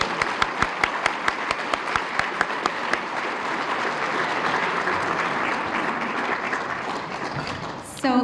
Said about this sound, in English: Please join me in a round of applause for Larry